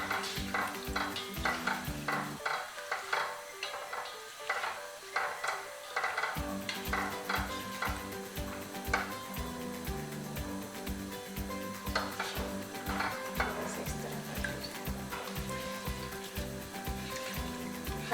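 Gulab jamun balls being stirred in hot frying oil, a steady close scraping and swirling with continuous sizzle and occasional clinks against the pan, no voices.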